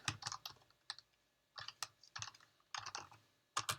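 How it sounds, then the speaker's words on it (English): Quick typing on a computer keyboard while building a web page in HTML: bursts of crisp, close key clicks grouped into short runs with brief pauses between them, fairly quiet and alone. "So I'll just type these quickly as I go"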